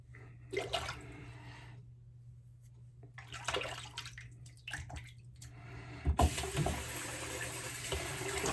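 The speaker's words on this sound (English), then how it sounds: "Water in the sink." Tap water runs into a sink as a steady rushing hiss that starts about two-thirds of the way through and continues to the end, after a quieter stretch of faint clinks and handling sounds.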